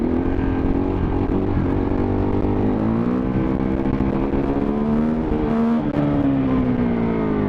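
A motorcycle engine revving hard while held in first or second gear during a wheelie, a loud sustained drone whose pitch rises and dips slightly as the throttle is worked, with no talk.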